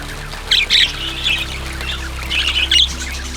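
Pet budgies give two short bursts of squawks and chirps, close and fairly loud over a steady low hum, with quieter chatter between.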